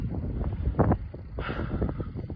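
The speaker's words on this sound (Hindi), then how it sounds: "और क्या सेक्सी हवा चल रही है यहाँ पे" Wind gusting at a hotel in Padum in the Zanskar Valley, a steady rushing buffet against the microphone with a couple of stronger surges and no talking.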